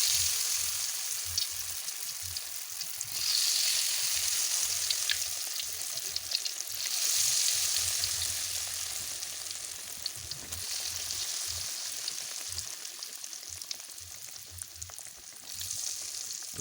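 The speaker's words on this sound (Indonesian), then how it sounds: "ini minyaknya sudah panas ya, tinggal kita goreng" Cassava fritters coated in a thin batter sizzle and crackle steadily in hot oil, a dense, continuous frying hiss with small pops and occasional stirring, close and alone without any talk.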